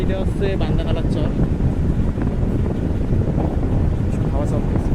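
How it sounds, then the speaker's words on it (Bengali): Steady wind gusting across open water at Bandanalar Char, a broad continuous roar filling the whole stretch, with someone talking over it and faint boat and surf noise beneath. "হাওয়া চলতেছে"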